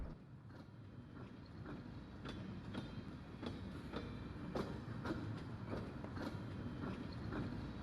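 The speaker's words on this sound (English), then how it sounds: "Go on this fucking train." A train in the video game Pathologic 2 rolls along its rails with a steady low rumble and regular clickety-clack wheel beats, faint and continuous without talk.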